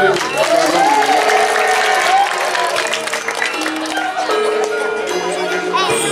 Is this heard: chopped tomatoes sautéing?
no